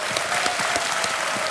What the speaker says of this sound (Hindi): एक बार फिर से हम तालियों के साथ आपका स्वागत करते